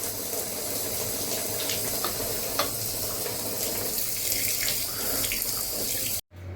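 Water from a tap runs steadily and loudly as a very dirty shoe is scrubbed beneath it, a continuous hiss broken only by a brief gap near the end.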